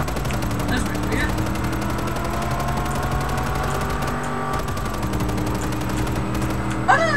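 Gunfire in Just Cause 3 during a base liberation, a steady stream of shots under a constant droning hum of engines and tonal game sound, with a faint burst near the end.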